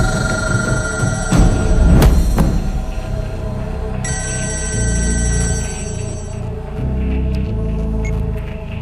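A telephone rings in an indoor office amid a film scene, with repeated electronic bell-like tones under a steady background hum and no speech.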